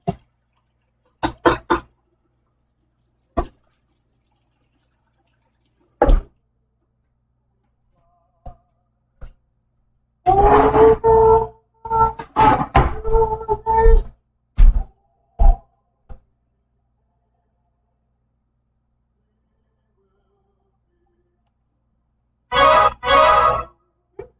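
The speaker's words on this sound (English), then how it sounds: "Wash our hands because we ate dough." Water runs and splashes at a kitchen sink during hand washing after mixing cookie dough, in short bursts of knocks and drips, then a longer splashing stretch, then silence and a final burst.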